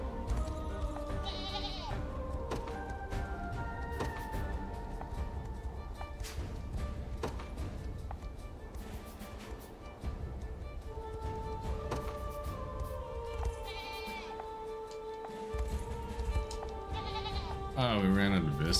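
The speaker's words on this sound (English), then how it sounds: "We always got plenty of goats." Goats bleat a few times in the video game Unicorn Overlord over steady background music and busy game sound effects, the cries rising out of the mix now and then.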